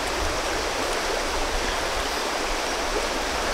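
Steady rushing water of a cold river behind a house, continuous and fairly loud with a broad hiss and low churning rumble, no voices.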